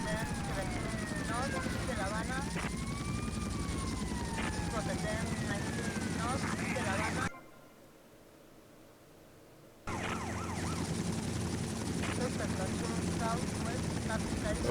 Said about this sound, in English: doing the Brown Thunder with the attack helicopter